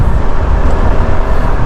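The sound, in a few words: passing cars on Central Avenue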